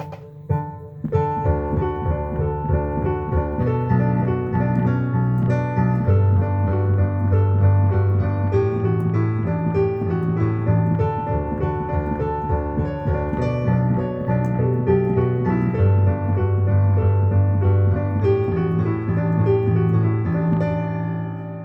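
Piano melody played over sustained bass notes, a continuous, moderately loud passage of layered chords and single-note lines with no talking.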